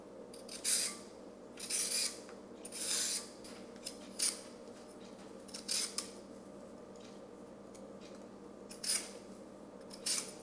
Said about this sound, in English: now I'm going to be peeling a carrot and a pound of potatoes, which is 2 potatoes